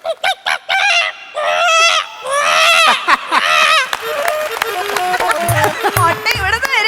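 A performer imitates a hen clucking and cackling while laying an egg, a loud run of squawking calls delivered close by, with bursts of speech and chatter near the start.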